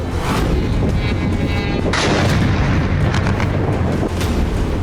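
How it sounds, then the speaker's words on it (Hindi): Drone strikes set off explosions at the Morozovsk airbase, a dense, loud, continuous roar of blasts and booms merging together with sharp bursts near the start and middle. "20 ड्रोन ने मोरोजोवस्क एयरबेस पर एक के बाद एक 20 धमाके किए।"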